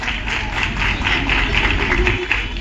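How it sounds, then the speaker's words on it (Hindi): Applause for journalists at an outdoor fair event in Patna's Gandhi Maidan, a loud, fairly close burst of clapping that holds steady for a few seconds over background hum. "एक बार जोरदार तालियां बजनी चाहिए पत्रकारों के लिए"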